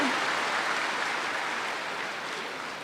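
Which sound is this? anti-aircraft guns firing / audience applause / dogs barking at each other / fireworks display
audience applause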